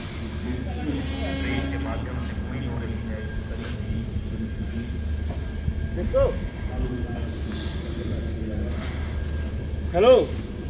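Tebhaga Express, a new LHB train, pulls away from platform 1 at Balurghat with a steady low rumble throughout, while people chat nearby and a voice calls out over the rolling noise.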